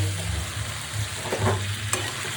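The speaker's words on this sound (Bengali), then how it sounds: "এইভাবে নাড়াচাড়া করে আমাদের মাংসটা করে দিতে হবে" Chicken pieces stirred and fried in a slick wok, with steady close sizzling and a few scraping stirs of a utensil across the pan.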